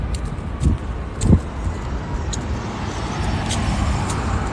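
Cars passing on a road during a morning walk, a low steady traffic rumble with a couple of louder swells as vehicles go by nearby.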